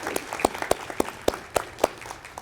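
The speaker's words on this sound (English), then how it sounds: "Let's have a round of applause for Janet." Sparse audience applause at a university hooding ceremony, a handful of distinct, fairly close claps spaced irregularly, moderately quiet and brief.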